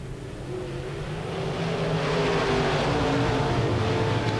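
IMCA modified race cars roar around the dirt oval at RPM Speedway, a dense, continuous engine drone that swells steadily louder as the pack approaches, with no talk over it.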